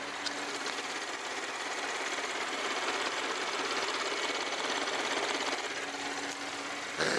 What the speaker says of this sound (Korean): 가장 중요한 조용한 엔진 소리 들려드리도록 하겠습니다